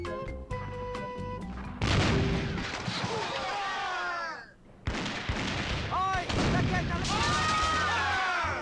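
Repeated cannon blasts from The Curse of Monkey Island, loud booming shots and crashing impacts that come in a volley, briefly drop away, then resume, with characters yelling over them.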